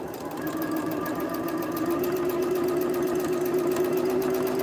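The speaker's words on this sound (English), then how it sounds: "So I'm just going to sew with a very slightly larger seam allowance here, right from the base of that casing all the way down." A sewing machine stitches a French seam on a fabric gift bag, its motor running in a steady, even hum at close range with no speech.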